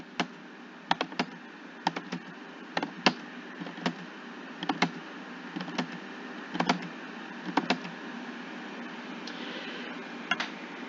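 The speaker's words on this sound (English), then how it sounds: "All I'm going to do is type in each data value and enter" Fingers typing numbers into a computer keyboard, a steady series of crisp close clicks and key taps in short bursts over a low hum, with no talking.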